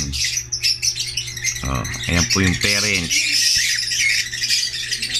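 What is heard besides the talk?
quality birds for sale squawking and chirping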